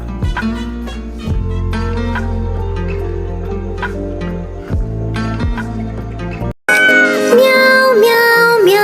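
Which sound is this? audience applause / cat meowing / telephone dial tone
cat meowing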